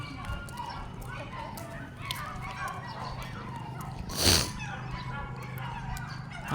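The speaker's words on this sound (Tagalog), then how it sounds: "Ang ingay ng aso ni Lolo." A grandfather's dogs being walked outdoors, with a single sharp bark rising briefly out of a steady background of ambient noise and distant sounds.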